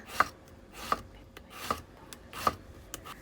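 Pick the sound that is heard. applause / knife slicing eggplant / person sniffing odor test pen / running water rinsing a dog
knife slicing eggplant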